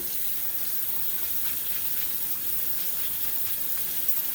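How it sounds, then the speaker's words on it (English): Tap water runs steadily over a SKMEI watch band being rinsed, a constant close gushing splash that stays alone and unbroken throughout. "Now I rinse."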